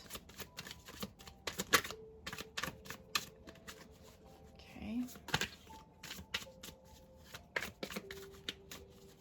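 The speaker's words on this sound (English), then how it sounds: "I'm gonna shuffle this deck a little bit more" Cards are shuffled repeatedly in quick riffling bursts, close and crisp, with faint talk in between.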